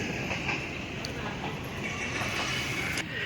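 A Pakistan Railways train passes through Badami Bagh station in Lahore, producing a continuous loud rolling rumble with faint rhythmic clicks and brief metallic ticks, and no voices.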